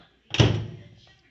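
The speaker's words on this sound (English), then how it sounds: "Okay, I'm closing the door." A microwave door shuts with a single close, solid thunk that rings briefly, during a home experiment with a lightbulb inside the oven.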